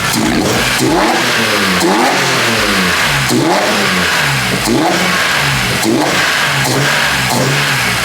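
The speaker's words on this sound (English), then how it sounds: "So I can go ahead and rev it for you guys a little bit" A BMW E90 M3 engine with open velocity stacks revs hard several times in quick bursts, rising and falling sharply, loud and close with no talking.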